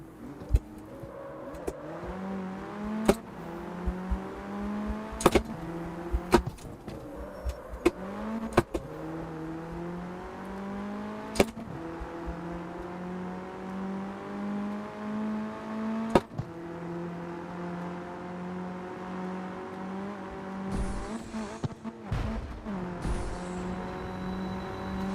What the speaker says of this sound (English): That was an awful downshift